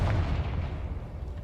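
A deep, rumbling explosion from the Confringo fire spell in the video game Hogwarts Legacy booms close and loud, then rolls on without a break.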